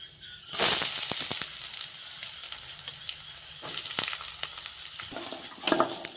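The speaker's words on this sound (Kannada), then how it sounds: "ಇದು ಸ್ವಲ್ಪ ಗೋಲ್ಡನ್ ಕಲರ್ ಬರೋವರೆಗೂ ಫ್ರೈ ಆಗಿ" Peanuts, onion and green chillies hit hot oil in a pan with a sudden loud sizzle that settles into steady crackling frying, broken by a few sharp stirring clicks, heard close up.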